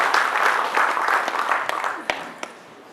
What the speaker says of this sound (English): Can we please welcome him with a resounding applause?